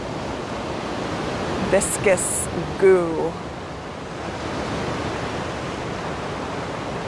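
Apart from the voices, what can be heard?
sound of water nearby outdoors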